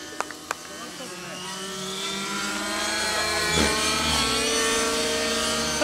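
An ALIGN T-REX700 nitro RC helicopter engine runs at an outdoor meetup, a buzzing whine that builds and rises steadily in pitch after a few faint clicks at the start.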